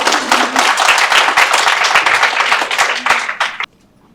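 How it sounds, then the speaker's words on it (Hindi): An audience at the Sajha Mart store launch event claps loudly and densely for several seconds, and the applause then cuts off abruptly into near silence. "तालियां कम बज रही हैं, क्या हो गया?"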